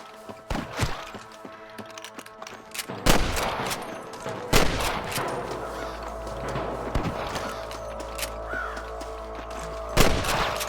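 Gunshots crack irregularly during a shootout in the Red Dead Redemption video game, several sharp bursts spread over the span amid game ambience and a low rumble.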